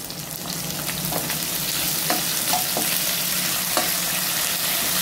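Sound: capsicum and onion frying with chilli sauce

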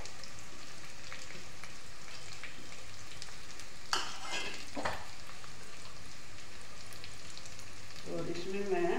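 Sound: onions frying in a pan

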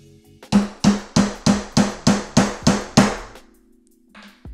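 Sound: titanium hammer stamping letters into titanium plate

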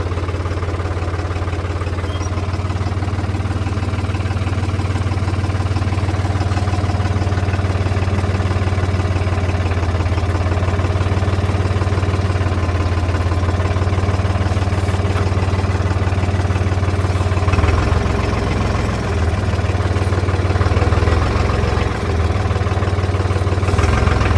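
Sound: Lamborghini Crono 55 tractor engine running in lowest gear

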